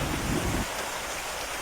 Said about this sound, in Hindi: बारिश होनी शुरू हो जाती है।